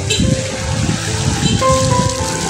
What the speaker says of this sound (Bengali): অনেক বৃষ্টি আসছে বাবা